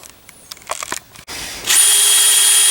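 A Harbor Freight Hercules step drill bit bores holes for a mixing cone on a starter fertilizer trailer, with scattered clicks and handling noise before a steady, loud whirring drill run that builds and holds to the end.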